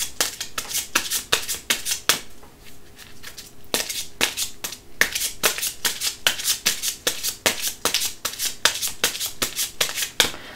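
A deck of oracle cards shuffled close by, a rapid run of sharp riffling flicks repeating steadily throughout, no voices.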